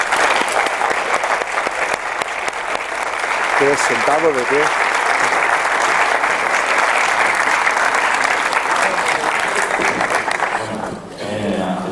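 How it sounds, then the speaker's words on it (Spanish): An audience at a talk on extraterrestrial intelligence and exoscience gives a long burst of steady, dense clapping that fills the room, with brief speech over it near the middle before the applause fades at the end. "Doble aplauso, gracias."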